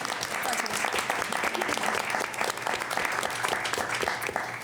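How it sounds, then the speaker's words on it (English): Dense, sustained applause from a forum audience welcoming a county NAACP branch president, many hands clapping continuously at a steady loud level throughout. "yes, please, applaud"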